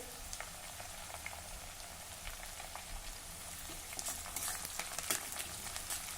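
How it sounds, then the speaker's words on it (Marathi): Chopped onion sautés in a pan for a spicy village-style kharda bhindi (okra), a faint continuous sizzle with light stirring taps and occasional pops, no voices. "हा कांदा अगदी दोन मिनिटासाठी परतून घेतला"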